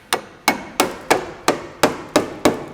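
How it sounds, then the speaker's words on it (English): A hammer strikes a chisel to pry metal-riveted floor panels off, seven sharp, evenly spaced metallic knocks ringing out close and loud with nothing else heard between them. "Whenever you're chiseling panels off,"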